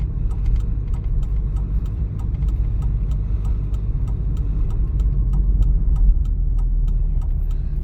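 A car in a driving exam moves along a city street, its engine a steady, loud, even hum throughout with a faint regular ticking, likely the turn signal, and no voices.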